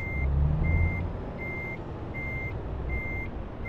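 In the Euro Truck Simulator 2 game, a truck in reverse gear sounds a steady series of reversing beeps. The evenly spaced high tones repeat over a constant engine rumble, with no one speaking.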